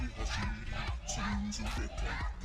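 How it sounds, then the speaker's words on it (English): A crowd in Tokyo Mirage Sessions chants a name in a low-pitched, rhythmic repeated chorus, loud and steady with a regular pulse throughout. "I hear the crowd chanting Yashiro, Yashiro."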